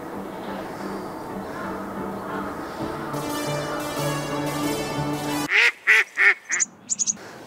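Spot-billed ducks call outdoors in a run of loud, close quacks, first in two separate bursts and then in a quicker cluster, following a stretch of steady background noise.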